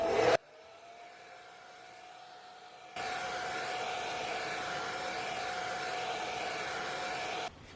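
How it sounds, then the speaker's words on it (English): A hair dryer blow-drying a wig, starting at low speed with a soft whir and then jumping to a louder, steady rushing blast that runs for several seconds before switching off. "I'm gonna use this to blow dry it"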